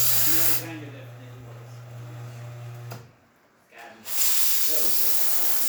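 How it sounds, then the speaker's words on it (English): Steady broadband hiss of a La Marzocco Linea Mini espresso machine's steam wand blasting, cutting out briefly near the end before resuming, with a low machine hum underneath at first. "Nice, strong dry steam."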